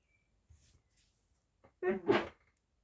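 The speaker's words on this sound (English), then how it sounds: "Excuse me, I've got a sneeze coming." A single sharp sneeze, close and loud, preceded by a short intake of breath and a brief quiet pause.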